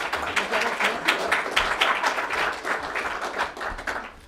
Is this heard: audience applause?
yes